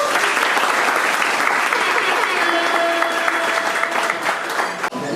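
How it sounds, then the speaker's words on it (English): Audience at a banquet breaks into loud, sustained applause, dense clapping filling the room evenly from start to finish. "Put a round of applause for all of them."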